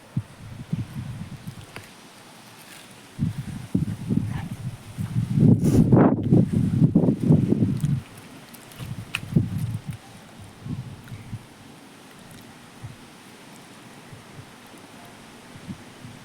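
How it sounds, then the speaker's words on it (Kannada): Gusty outdoor wind in rainy weather buffets the microphone in low rumbling bursts, swelling into a strong sustained gust midway before easing back to lighter, intermittent blowing. "ಗಾಳಿ ಅಂಕರು ಭಾಳ ಐತ್ರಿ"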